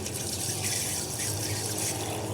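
Water runs steadily over lemongrass being washed at a home cooking sink, a constant close rush of flow with no voices.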